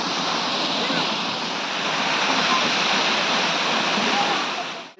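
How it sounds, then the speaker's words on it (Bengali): Durga Falls, a waterfall fed by water from Ayodhya that runs all year, pours with a loud, constant, broadband roar. It is heard close up and continuously until an abrupt stop at the end. "এই যে দেখতে পাচ্ছেন দুর্গা ফলস, এটা অযোধ্যা থেকে জলটা আসছে, এটা কন্টিনিউ 12 মাস এইরকম বয়েই যায়।"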